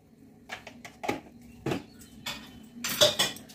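Boiled rice being mixed with salt and biryani masala in a metal pot, a series of distinct clanks and scrapes of a utensil against the pot, close and fairly loud, with quiet gaps between strokes.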